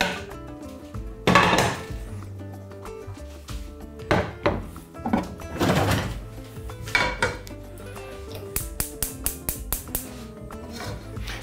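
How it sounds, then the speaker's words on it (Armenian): A frying pan set down on a stove burner while chicken wings are being prepared, giving several loud metallic clanks and knocks, then a quick run of light tapping clinks near the end. "Կրակին դնում ենք տապակը։"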